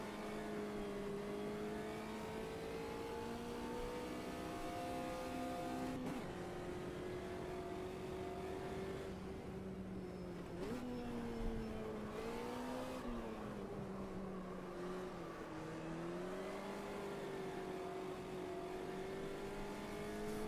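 Racing car engine in Automobilista 2, an old Beetle-shaped car driven steadily: a continuous droning motor note that rises and falls in pitch as it revs and shifts, fairly quiet but constant for the whole stretch.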